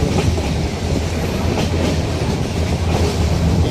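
At Talala railway station, a train rumbles and clatters with a steady rolling noise. The sound is close and loud throughout, with no one speaking.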